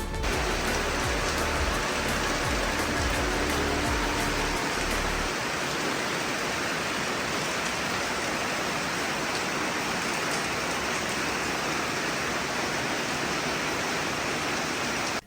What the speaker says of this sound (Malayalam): പതിവ് തെറ്റിക്കാതെ ഈ ആഴ്ചയും മഴ പെയ്തു